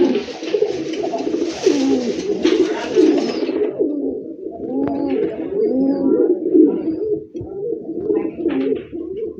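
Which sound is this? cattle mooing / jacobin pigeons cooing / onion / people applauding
jacobin pigeons cooing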